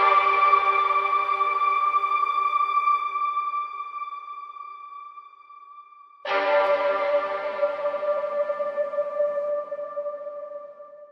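A small string phrase from a beat plays alone: sustained, bright string tones hold steady, fade somewhat, then a fresh, louder chord enters abruptly about six seconds in and rings on.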